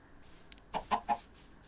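A chicken in Minecraft gives a few short clucks, three quick close pulses after a faint chirp, with nothing else in the background.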